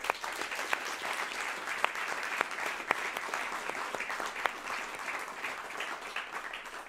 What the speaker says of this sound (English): A big applause to Benin.